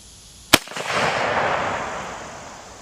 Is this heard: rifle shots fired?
yes